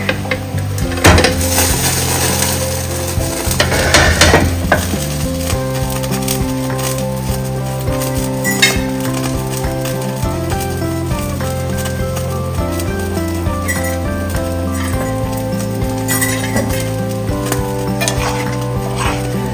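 Stew pork fries in a pan for fried dumplings, with a steady sizzle throughout and repeated stirring scrapes and clinks of a utensil against the pan, loud and close, with no voices.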